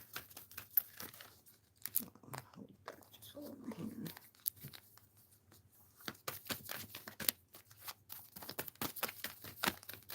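Cards being shuffled close by, a series of soft riffling and flicking bursts with crinkly rustles and brief pauses in between.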